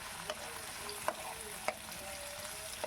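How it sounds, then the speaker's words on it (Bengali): Sliced potatoes and onions frying in a pan, a faint steady sizzle with a few soft scraping stirs of a utensil. "বেশ কিছুক্ষণ ভালো করে আমি ভেজে নিচ্ছি আলুর পেঁয়াজের সাথে"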